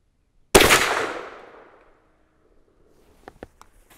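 A single sharp rifle shot from a CVA Hunter .44 Magnum cracks out close and loud, then its echo rolls away and fades over about a second, with a few faint clicks afterward.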